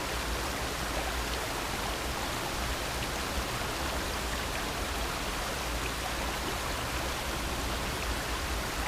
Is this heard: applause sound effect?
no